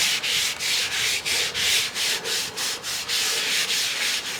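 Rhythmic back-and-forth scrubbing strokes scrape surface rust off a metal smoker grill, about a dozen even, loud rasping passes in quick succession with no talk.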